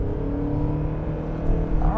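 A 2025 Mazda CX-50 Hybrid Premium engine in sport mode accelerates from inside the cabin, a steady rumbling drone that swells and rises in pitch toward the end.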